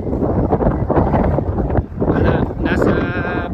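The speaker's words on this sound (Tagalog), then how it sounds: "Lakas ng hangin dito." Strong gusty wind at the crater of Aso Volcano, Japan, buffets the microphone in heavy, rumbling bursts, with a voice speaking briefly in Filipino over the roar.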